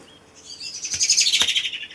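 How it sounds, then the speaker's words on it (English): A noisy bird gives a loud, close burst of rapid chirps lasting about a second, with a few sharp knocks around it. "cool, noisy bird"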